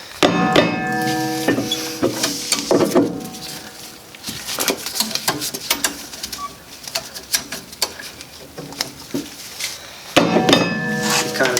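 A mallet strikes a Honda Civic rear brake rotor to free it, a series of sharp metallic knocks in irregular bursts with short pauses between, close and loud, with birds cooing faintly behind.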